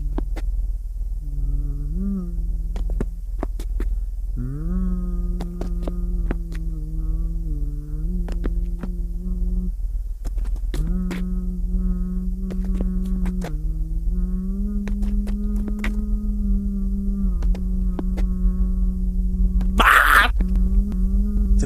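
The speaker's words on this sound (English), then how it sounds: "You hear stumbling footsteps by your head, followed by a tuneless humming." Slow, tuneless humming in a low voice, wavering between a few sustained pitches for most of the stretch, with faint shuffling, stumbling footstep thumps nearby and a brief loud scrape or rustle near the end.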